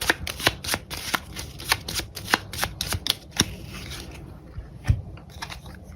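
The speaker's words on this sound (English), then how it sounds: "Let's go ahead and shuffle these cards." Playing cards for the board game Wayfarers of the South Tigris are riffled and shuffled up close, a series of sharp crisp snaps and flutters, then a pause and a final snap.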